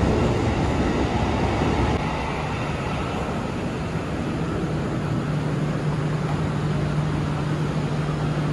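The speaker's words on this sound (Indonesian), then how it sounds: "Dan ini lewat kereta api buat jalur Jakarta Bekasi gitu." A train on the Jakarta–Bekasi line rolls past in a continuous loud rumble and roar, steady and close, with no talk over it.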